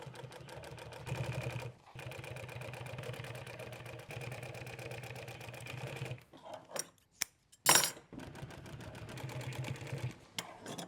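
Sewing machine stitching upholstery foam pieces for a 1959 Mercury Monterey rear seat, a steady close mechanical whir for several seconds, then stopping and restarting with clunks and handling noises in between.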